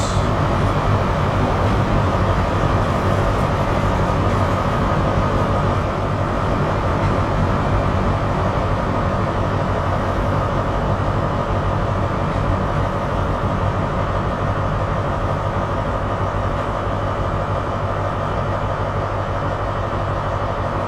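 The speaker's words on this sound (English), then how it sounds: "There's our train." A train arrives at a snowy station in Train Sim World on a Great Western route near Ealing Broadway, a loud continuous rumbling roar that holds steady for about twenty seconds with no talk.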